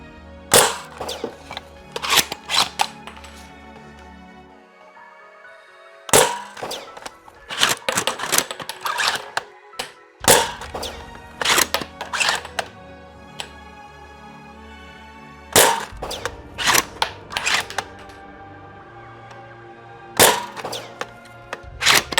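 Nerf Wrenfield bolt-action sniper rifle firing foam darts from shells, loud sharp shots in rapid bursts with clacking bolt cycling between them, pausing for magazine changes, no talking.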